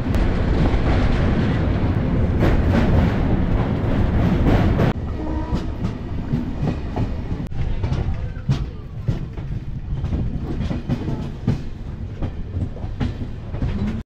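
A train crossing the Rupnarayan river makes a loud, close rumble with rhythmic clickety-clack from the wheels. The clattering roar shifts in tone partway through and carries on without any voices.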